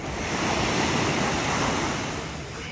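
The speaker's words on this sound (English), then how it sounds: "The water is pretty calm here." Calm sea water washes onto a beach at Puerto Vallarta, Mexico, a broad continuous surf wash with some wind noise, steady and fairly loud with no voices.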